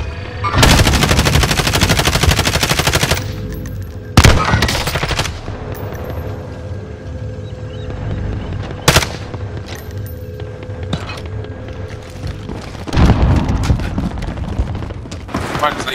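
Automatic weapons blaze in Call of Duty Warzone on Rebirth Island, with long loud bursts of rapid fire, several sharp single booms and a steady rumble of battle beneath, one more sustained burst near the end.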